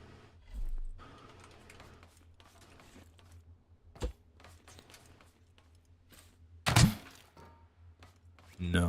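Spud gun firing in the game Scrap Mechanic, a few heavy hollow thunks, one sharp hit midway and a louder burst later, over low mechanical background.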